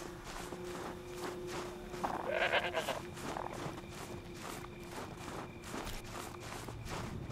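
Goats bleat briefly in the video game Horizon Zero Dawn under a steady rhythm of footsteps on the ground.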